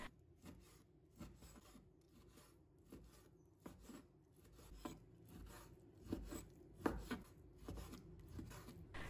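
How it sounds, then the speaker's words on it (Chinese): A knife chops pork into small pieces on a board, a quiet run of rapid, irregular cuts with faint rubbing between strokes. "先把它切成大块， 把它改刀成小块"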